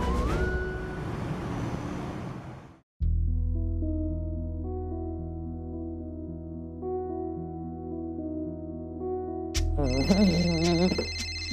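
A phone's melodic electronic ringtone plays steadily for several seconds, loud and clear, in a domestic scene from a Marathi TV drama, with a noisy burst before it and other sounds cutting in after.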